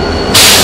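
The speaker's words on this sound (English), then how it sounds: "That noise is a train, Maple." A passing train in St. Louis lets out a sudden loud burst of hissing, like steam venting, which swells after a steady rumble and fills the short moment with noise.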